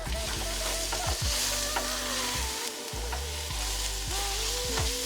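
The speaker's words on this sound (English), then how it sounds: "And then we'll use a little bit of Himalayan salt. Stir it." Vegetarian pilau being stirred in a pot after Himalayan salt goes in, a steady close sizzle of frying with repeated scraping strokes of the spoon through the rice every second or so.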